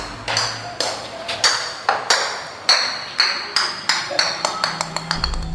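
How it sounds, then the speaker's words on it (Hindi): A ball bounces down a staircase as a horror-story sound effect: a run of about a dozen bright, ringing pings, the bounces coming closer together as it falls. "ऊपर से एक बॉल गिरते हुए नीचे आया।"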